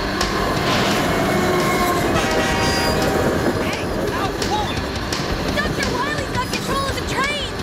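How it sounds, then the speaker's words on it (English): A train in the Mega Man cartoon rumbles steadily throughout, loud and continuous, with metallic squeals and clatter rising toward the end. "This train will take us back to the lab safely."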